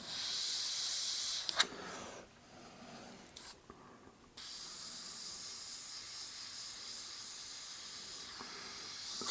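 Airbrush spraying paint onto a custom car in short bursts, a soft steady hiss that stops and starts several times with brief quiet gaps between passes, close and fairly faint.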